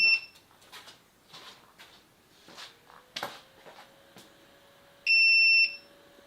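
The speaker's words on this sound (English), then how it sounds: "it beeps a few times, and then there's a resume button" Scattered clicks and light handling noises, then a single sharp electronic beep from an Artillery Sidewinder X2 3D printer after power is restored rings out clearly and briefly near the end.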